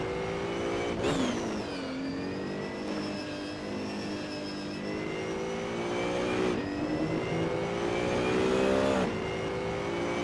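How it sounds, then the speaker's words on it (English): Racing car engine in a PC racing game's career mode, a car fully specced for racing: a loud, steady high-pitched drone that drops sharply on each upshift and then climbs again, with no talk. "Car sounds fucking awesome."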